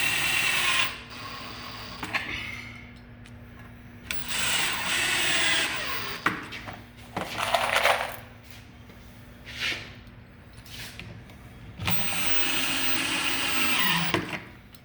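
A drill drives pocket screws into a cabinet face frame, giving several loud whirring bursts of a few seconds each, separated by short pauses, close up and with no talk.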